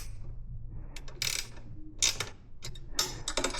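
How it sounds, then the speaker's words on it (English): A ratchet tightens the bolts on an Aprilia Tuareg 660 luggage rack, working the nut end: three close, quick bursts of clicking, each separated by a brief pause. "It's always best to do the tightening with the nut end"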